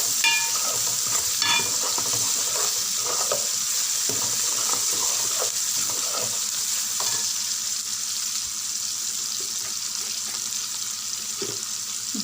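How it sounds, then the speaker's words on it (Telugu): Ginger-garlic paste sizzles in hot oil in a pan for a spring onion curry, a continuous close frying hiss broken by scraping stirs and clinks, with no voices. "ఇలా గోల్డెన్ కలర్ వచ్చాక అల్లం వెల్లిపాయ పేస్ట్ వేయాలి. పచ్చి వాసన పోయేదాకా కలపాలి."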